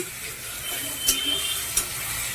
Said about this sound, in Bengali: তেলে আলু দিয়ে দিয়েছি একটু নুন দিয়ে দিলাম দিয়ে হালকা আলুটা ভেজে নিচ্ছি